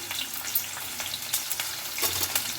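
Okra pieces and curry leaves fry in a pan with onions, a constant crackling sizzle punctuated by stirring scrapes and taps, close up with no voices.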